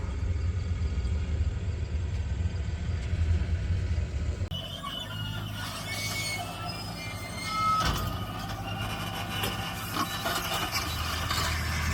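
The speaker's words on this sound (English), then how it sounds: "And here comes the planter." No-till drill planter rolling across a pasture to seed it, a rumbling approach that turns into grinding, rattling and metallic squeaks as it passes close.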